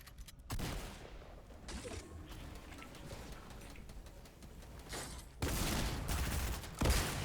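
Rapid bursts of gunfire and rocket launches from a Fortnite Battle Royale match, with a loud blast opening the sequence, sustained firing through the middle, and another heavy burst of explosive fire near the end.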